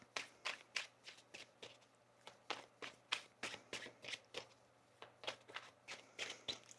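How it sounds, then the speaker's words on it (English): Tarot cards being shuffled by hand in a quiet room, a quick run of crisp riffling bursts and soft slaps, close and fairly faint, with no talking. "get one more shuffle here for you."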